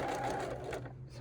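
A sewing machine runs steadily while stitching a cardinal-shaped fabric pillow, a short, fairly quiet whirring burst that trails off at the end.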